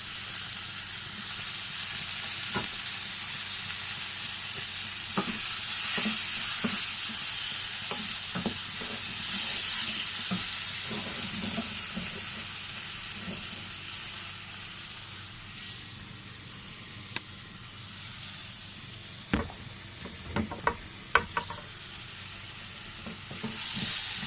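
Tomatoes sizzling and frying in a pan while being stirred for poha, a steady hiss of oil with intermittent clinks and scrapes of the spoon against the pan, close and continuous.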